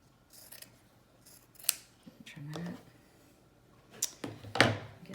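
Scissors trim cloth pieces for a washable rounded beak style face mask in a few quick crisp snips, close and moderately loud, separated by quiet pauses and small handling rustles.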